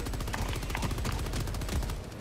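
Rapid automatic gunfire aimed at bugs in the video game Helldivers 2, a dense unbroken run of loud shots that holds steady for about two seconds.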